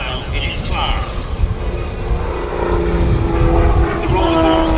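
Aerobatic plane with a 350 hp Lycoming AIO-580 engine and full-span ailerons performing at a vintage air show, its propeller engine droning steadily and swelling louder toward the end under a voice talking over it.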